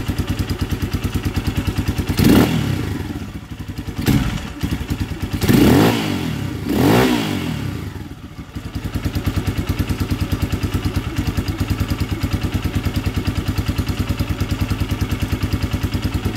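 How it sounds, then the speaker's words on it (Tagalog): A motorcycle engine idles steadily up close, then revs sharply three times in quick bursts before settling back into its even, throbbing idle. "Parang gumanda yung tunog ng motor natin"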